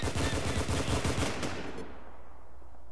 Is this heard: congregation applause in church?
no